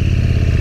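A KTM Super Duke 1290 naked street motorcycle's engine rumbles close and loud in a brief, steady low burst, with no voices over it.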